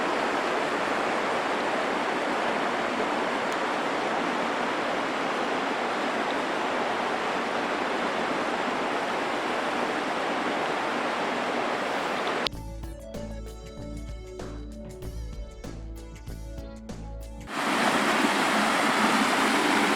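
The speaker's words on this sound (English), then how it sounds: "The pumps keep the water flowing, keeping it fresh and clean." Steady, loud rushing water pumped through trout tanks at a fish hatchery fills most of the recording, breaks briefly for a few seconds of mechanical clatter, then the rush resumes.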